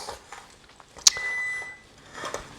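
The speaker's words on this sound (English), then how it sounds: "Now there's the timer." An oven's preheat timer sounds a single short, sharp electronic beep in a home kitchen, clear above quiet background clatter, with a faint tone lingering briefly after.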